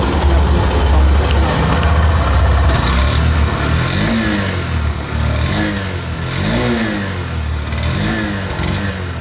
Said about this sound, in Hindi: और ये है इसके इंजन का साउंड।